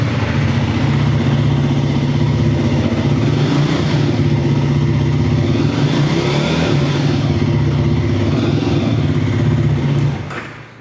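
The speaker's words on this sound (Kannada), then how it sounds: "ವಿತ್ ನಿಮಗೆ ಎಕ್ಸಾಸ್ಟ್ ಸೌಂಡ್ ಯಾವ ರೀತಿ ಇದೆ ಅಂತ ತೋರಿಸ್ಕೊಡ್ತೀನಿ" A Triumph Thruxton 400 motorcycle's exhaust roars loud and close in a steady, sustained rev, then cuts off sharply near the end.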